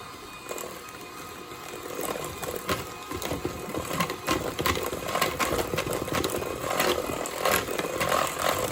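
An electric mixer whirs and clatters steadily as it beats cinnamon bread batter after buttermilk mixture is added, a continuous motor drone close by.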